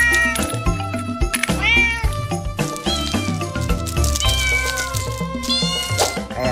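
A toy cat produces repeated electronic meowing, a bright synthetic voice of several close, loud meows in quick succession over a musical tone.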